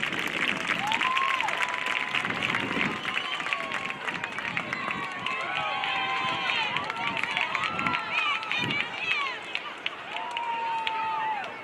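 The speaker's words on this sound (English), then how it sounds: "Please give a huge round of applause to all our seniors this evening." A stadium crowd at a high school football game applauds and cheers for the seniors at halftime, a broad wash of clapping mixed with voices and whistles.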